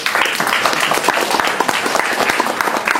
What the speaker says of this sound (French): C'est Prince, est-ce que vous pouvez l'applaudir s'il vous plaît?